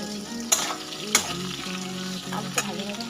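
Potatoes frying in oil with bay leaf and dried chili, cooked ahead of a rohu fish curry: a steady sizzle close by, broken by a few sharp clanks and scrapes of a spatula, with no talk.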